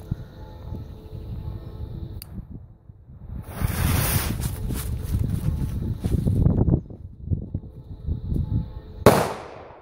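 A deep, booming Kanonenschlag firecracker blast rolls out on New Year's Eve, followed by crackling and rumbling wind noise, then a second sharp burst near the end.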